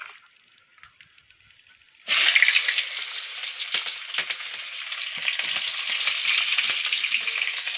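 Onions drop into hot oil in a kadhai for tempering, and after a couple of seconds of quiet scraping a loud, steady sizzle erupts and continues, with faint spoon knocks under it.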